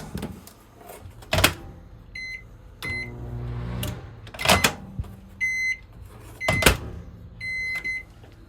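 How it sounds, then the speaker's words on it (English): A microwave oven in a 2022 Forest River Salem FSX 177BH travel trailer hums steadily while its keypad beeps in short electronic chirps, with a few louder clunks of the door opening and closing nearby. "Microwave."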